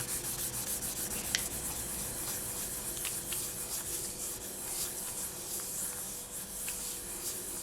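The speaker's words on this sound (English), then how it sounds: "I'm just going to burnish that again so that it is nice and stuck down onto the black." Polymer clay being burnished onto a black clay sheet: a steady soft rubbing and scraping texture throughout, close and continuous, with a few faint clicks, no talking.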